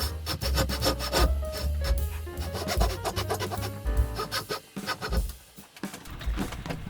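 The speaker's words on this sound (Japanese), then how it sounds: "胴付き線を横引きのノコギリで切っていきます" A crosscut handsaw cuts across a shoulder line in wood in quick, rhythmic back-and-forth strokes, close and scratchy, slowing and thinning out near the end.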